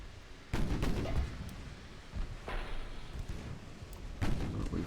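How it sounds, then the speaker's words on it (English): Six-inch naval guns fire in a battleship battle in Ultimate Admiral: Dreadnoughts, producing a series of heavy booming reports at uneven intervals, each followed by a rolling rumble, all heard at a moderate distance. "It's got just 6-inch guns firing now"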